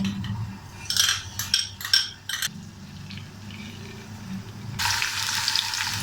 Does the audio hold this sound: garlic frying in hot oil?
yes